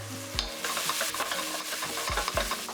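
Onions, garlic and herbs sizzle close up in a pan, a continuous frying hiss with a few low clunks and scrapes of a utensil, no voices.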